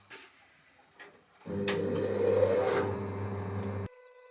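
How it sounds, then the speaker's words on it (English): A large Japanese sharpening wheel thins a kitchen knife, a steady loud motorized grinding hum with abrasive scraping that starts abruptly, holds for about two and a half seconds, then cuts off, with quieter handling noises before it. "use this guy here, this gigantic sharpening wheel that we shipped it over from Japan, and we will use this to thin the knife"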